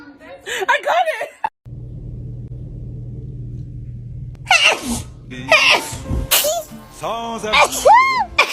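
Repeated sneezing during an allergy attack, sharp loud bursts spaced across the clip with a low rumbling hum in the background and voices reacting between sneezes.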